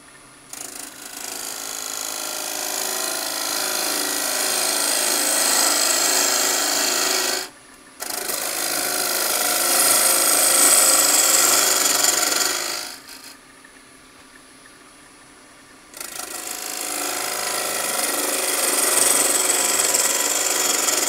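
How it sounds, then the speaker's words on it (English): A bowl gouge cuts a PVC urn insert spinning on a lathe, giving a loud, steady rasping scrape in long passes, broken by two short pauses and a quieter stretch of motor hum before cutting resumes. "we're going to come in there with a bowl gouge, just like we did before, and take it in"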